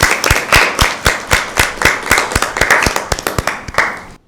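Hands clap loudly for Team B at a Bible quiz, a rapid, fairly even run of sharp claps from what sounds like a small group, close by, ending abruptly.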